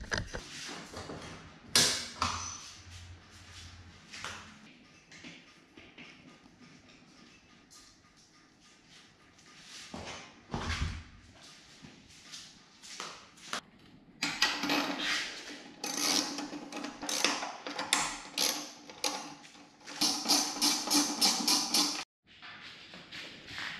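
Tools loosening and removing bolts from a Harley-Davidson speedometer with condensation inside, giving close clicks, metallic clatters and ratchet-like rattles in irregular bursts, busiest in the second half.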